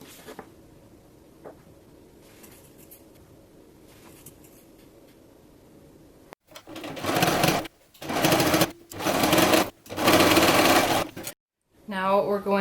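A sewing machine stitches a single line through fabric for a dog snuffle mat, running in several loud, fast bursts with short pauses between them, after a quieter stretch of faint handling noise.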